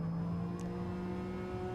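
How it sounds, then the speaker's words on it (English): Lamborghini Aventador LP 750-4 Super Veloce engine in GT Sport, a steady loud droning hum at constant revs, alone without voices. "And then of course, a Lamborghini Aventador"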